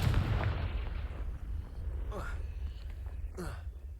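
Confringo fire spell blasting in the Hogwarts Legacy video game: a loud, rumbling explosive roar with heavy low-end booms running throughout, with bursts of voice audible on top.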